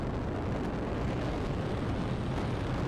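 A video game explosion in Brick Rigs: a loud, dense, sustained roaring blast that fills the whole clip at constant intensity, with no voices over it.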